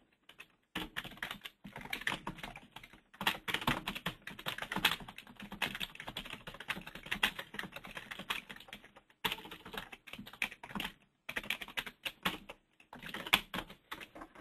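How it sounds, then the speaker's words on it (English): Typing on a computer keyboard while editing a document: rapid, close, continuous key clatter in bursts with short pauses, with no talk. "So the same thing, you can just type in like normal here."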